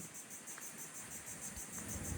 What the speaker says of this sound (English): Already you hear the crickets chirping.